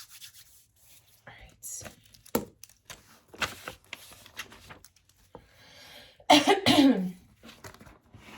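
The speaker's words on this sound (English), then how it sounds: "I'm so sorry for constantly clearing my throat." Several sharp throat clears and coughs in irregular bursts, the loudest one near the end, with brief rustling between them.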